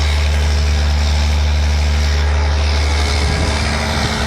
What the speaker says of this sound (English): He leaves the tractor there going